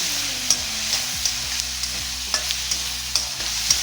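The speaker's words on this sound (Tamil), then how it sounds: "2 நிமிஷம் 3 நிமிஷம் இப்படியே வதக்கிட்டே இருங்க" Prawn thokku sautés in oil with chilli powder and a little turmeric, giving a steady close sizzle broken by regular scraping clicks of a spoon stirring the pan, with no talking.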